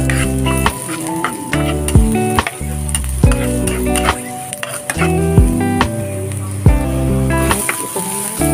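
Chopped onions sautéing in a pan for chicken afritada, a steady close sizzle with stirring clinks and scrapes recurring throughout, loud and with no talk over it.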